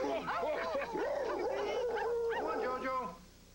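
A Muppet dog puppet in a television show yips and whimpers in a run of quick high cries. It is a voice imitating a dog, heard close and loud with talk around it.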